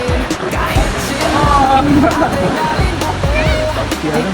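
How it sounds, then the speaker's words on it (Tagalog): Small ocean waves wash steadily at Baler Beach, a soft continuous surf under someone talking close by. "Hindi, mahina lang ang alon eh."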